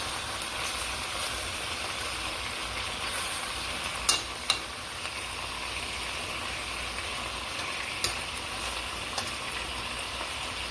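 Pork pieces browning on high heat in a pot for Haitian stewed pork, a steady, even sizzle with a few faint clinks, continuous and moderately loud with no talking.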